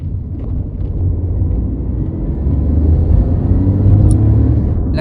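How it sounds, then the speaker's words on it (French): A 2020 Renault Clio 5 car accelerating, heard from inside as a loud, low engine rumble that swells steadily as speed builds, with a faint rising engine tone over the steady road noise. "Cette voiture a une très bonne accélération par rapport à un moteur 90"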